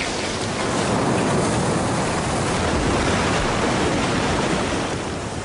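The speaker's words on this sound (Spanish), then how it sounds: "el flujo continuo de las aguas bravas" Whitewater rapids of the Colorado River rushing through the canyon, a loud, steady broadband roar holding constant for the whole stretch with no voices.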